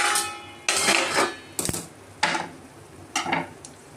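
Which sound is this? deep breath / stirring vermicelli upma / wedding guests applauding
stirring vermicelli upma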